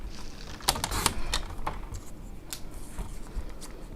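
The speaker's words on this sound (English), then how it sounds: "I'm now going to cut it a 1/4 of an inch off each side" A strip of card being cut off each side, heard as several sharp close clicks and snips with soft rustling between them, no voices.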